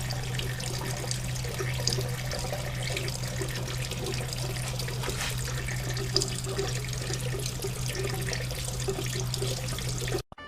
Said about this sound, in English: Seems like an awful lot of coolant coming out.